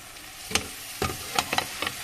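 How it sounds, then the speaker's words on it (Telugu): Egg curry with tomatoes and onion greens simmering in a pan, stirred with a few soft, separate scraping strokes over a faint bubbling background, with no voices. "గుడ్డు ముక్కలు కూర చక్కగా ఉడుకుతుంది"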